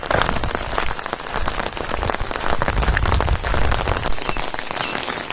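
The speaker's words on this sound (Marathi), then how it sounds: "पाऊस चालू झाला आहे चांगला." Steady monsoon rain pours down close by near a river in a Konkan village, a dense, even hiss of drops on hard surfaces with no voices.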